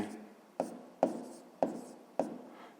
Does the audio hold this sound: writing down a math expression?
yes